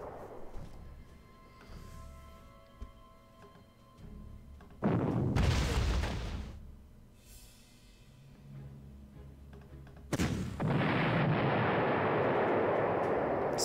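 Anti-tank cannon fire from the World War II strategy game Panzer Corps: two loud, heavy booms about five seconds apart, each with a long rumbling tail, set over a quiet background.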